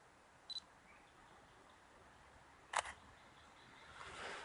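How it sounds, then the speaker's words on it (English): Single-lens reflex camera shutter firing once for a flower photo with off-camera flash, a sharp mechanical click standing out in quiet room tone, preceded by a faint brief blip. "So let's just get a shot here."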